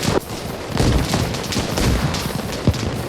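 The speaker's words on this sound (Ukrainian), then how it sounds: "Ответка летить, гранати кидають в ответ." Grenade blasts in Arma Reforger, a multiplayer military shooter, thumping out as a dense run of overlapping bangs over steady battle noise, with one sharper hit standing out near the end.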